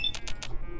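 Weapon reloading in Fallout 3: three quick, bright metallic clicks in an even rhythm, close and crisp, followed by a faint mechanical tail.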